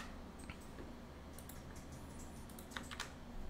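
Soft, quiet typing of a login name and password on a computer keyboard, with scattered light key clicks over a faint background hum.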